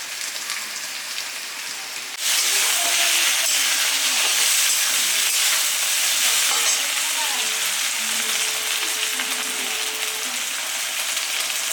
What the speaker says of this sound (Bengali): পেঁয়াজ সুন্দর ভাজা হয়ে গেছে